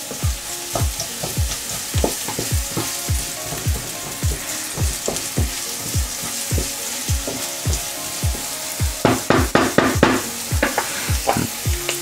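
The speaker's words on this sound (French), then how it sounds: "Là, on va mettre tout de suite nos oignons." Half an onion sizzles in a hot pan, a continuous crackling fry broken by regular rhythmic scraping strokes of stirring, close and clear with no talk.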